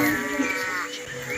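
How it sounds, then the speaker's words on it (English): A sheep in a tractor cartoon game gives one long, loud, wavering bleat that lasts the whole moment, up close and on its own. "This is a sheep and shouting."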